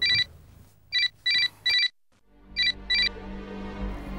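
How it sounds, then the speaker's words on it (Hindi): A mobile phone rings with a bright electronic ringtone, six short repeated pulses in two groups, loud and near, with a low room hum after the ringing stops. "अच्छा फोन दो, मेरा बेल बज रही है।"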